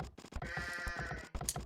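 Sheep bleating in Age of Empires II, a quick series of nasal, wavering bleats heard over a busy, clicking mix of in-game sounds, fairly close and steady in level.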